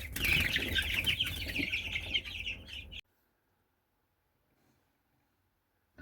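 A crowd of incubator-hatched young chicks cheeps and peeps continuously up close for a few seconds, then the sound cuts to near silence.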